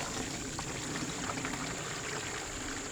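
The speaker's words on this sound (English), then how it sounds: "we're just gonna pour it through there and strain her out" Dark brown walnut hull liquid pours steadily through a strainer, a continuous close splashing rush with no talk over it.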